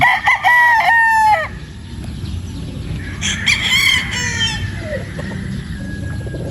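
A pure Boston Roundhead rooster at a game farm crows loudly and close, then breaks into softer clucks and another crow over a busy farmyard background.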